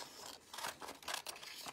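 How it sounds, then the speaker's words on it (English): Scissors snip steadily through cardboard along traced pencil lines while making a treasure chest art supply box, several close, crisp cuts in a regular rhythm with no talking. "Carefully cutting on the lines."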